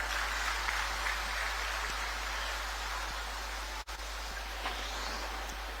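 An outdoor audience at a degree college inauguration on the Tata College ground in Chaibasa, Jharkhand, claps steadily to welcome a speaker. The applause forms a dense, even, fairly faint wash that holds throughout without voices.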